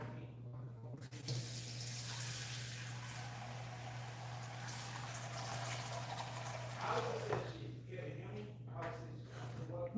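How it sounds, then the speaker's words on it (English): Water runs steadily from a kitchen tap into a container for blending ndole, a continuous hissing splash over a low hum, with a voice talking faintly underneath. "So the same thing, I'm going to add some water."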